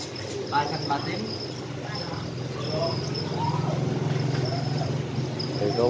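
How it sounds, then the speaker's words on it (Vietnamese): Crickets chirp steadily at a cricket-breeding spot inside an ornamental fish shop, a dense continuous high trill running throughout with a low hum and a person talking at moderate level over it. "Thì có nguyên một cái nơi nuôi dế nè mọi người."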